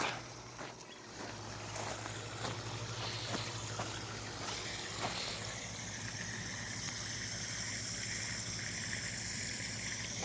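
Water gushing and trickling onto the ground while irrigating a young peach tree in the desert, a steady close wash of flow with a low hum beneath, continuing alone with no talk.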